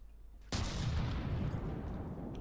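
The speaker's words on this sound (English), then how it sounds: "there goes the particle cannon" A particle cannon fires in a space combat video game: a sudden loud, booming blast hits about half a second in, then a sustained roaring rumble carries on to the end with no talking.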